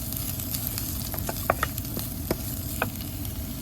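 Chopped onion with salt frying in a hot pan without added oil, giving a steady close sizzle with occasional sharper pops and stirring clinks.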